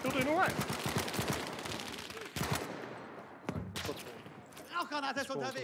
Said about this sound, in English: I just walk around with the submachine gun.